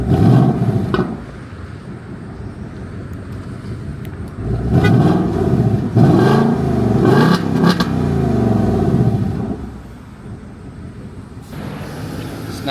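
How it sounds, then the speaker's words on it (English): A 2024 Ford Mustang GT with its stock factory non-active exhaust is revved remotely after a cold start, rising into a loud roaring blip around the middle before settling back to a steady idle rumble. "I'll give it a remote rev and then we'll put the X pipe on and see what it sounds like after."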